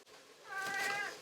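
A cat meows once in a home kitchen where pepper soup is being cooked, a close, drawn-out, rising and falling call lasting about half a second after a quiet start.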